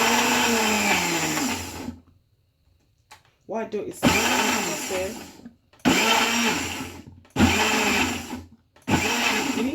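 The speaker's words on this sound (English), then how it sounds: "I think my blender is going crazy today." A kitchen blender whirs loudly in repeated bursts for Nigerian jollof rice, each pulse a steady grinding roar of a couple of seconds separated by short pauses, with a person speaking over it.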